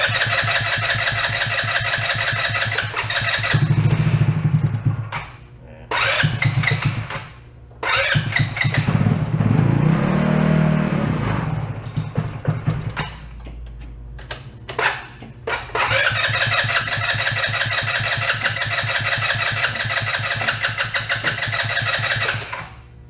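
An ATV engine cranks with starter fluid and catches, running loud in several bursts with short pauses between attempts, then settling into a steady run near the end. No talking.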